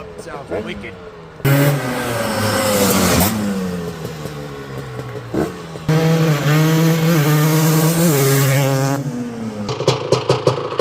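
A restored 1986 Honda TRX250R ATV engine revs hard and loud in repeated bursts, rising and falling pitch, with brief quieter idle gaps between pulls and sharp blips near the end.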